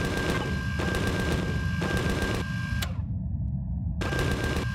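Repeated bursts of rapid automatic gunfire in the space-survival video game Empyrion, loud and continuous for stretches with a short abrupt pause before firing resumes.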